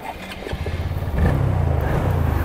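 A Honda Grom motorcycle idling and then pulling away, its small single-cylinder engine throbbing close by and growing louder as it sets off, steady and loud with no talk.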